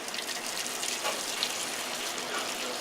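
Water runs from a pot sink faucet into a pan, a steady close gush with a hissing, even texture throughout and no talking.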